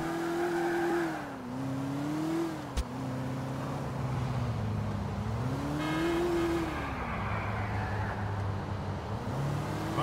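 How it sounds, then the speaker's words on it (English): Cars in the video game GTA IV spin out, their engines droning and rising and falling in pitch throughout, loud and continuous, with a sharp click near the middle and a brief tire squeal. "Why is every car like spinning out like that?"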